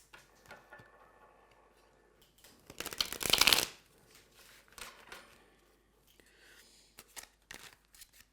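Tarot cards are riffled in one quick, crisp flurry lasting under a second, preceded and followed by soft handling taps and slides of the deck in a quiet room.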